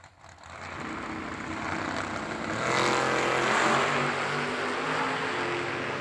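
An '86 Camaro and a Chevy S10 launch in a drag race at a New Year Nationals event, engines building from a low rumble into a loud, roaring surge that holds to the end.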